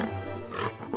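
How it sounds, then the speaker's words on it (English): A lion gives a short, deep, rough roar with rising breathy grunts, loud and close, over about a second with no talking. "Time to meet a lion."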